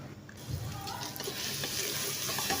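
Minced meat (keema) for aloo keema sizzles and crackles steadily in a hot pan, with stirring scrapes throughout, close and fairly loud, no voices.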